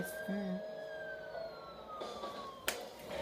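An ambulance siren in Driver San Francisco wails as a long gliding tone that slowly drops in pitch, steady and prominent over road noise, ending with a sharp click.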